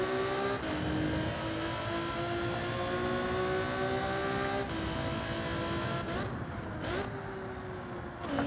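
A race car engine in Gran Turismo 7 drones steadily at high revs throughout, its pitch rising and dipping through gear changes with a brief lift near the end, loud and continuous with no talking.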